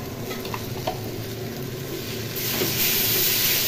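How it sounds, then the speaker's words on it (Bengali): Spice paste frying in a pan while being stirred gives a steady, close sizzle with faint scraping, and it swells noticeably louder and brighter partway through. No one talks. "মশলাটা একটু কষা নিই।"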